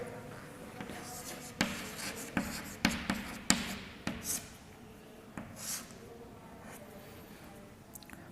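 Pen writing out the answer to a maths sets exercise: a series of quiet, close scratching strokes and taps in irregular bursts, with no talking.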